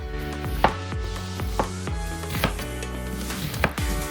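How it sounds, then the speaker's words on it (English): A knife thinly slices half an onion on a cutting board, with about seven crisp, evenly spaced chops in a steady rhythm, close and clear with no talk. "Use half an onion and thinly slice it."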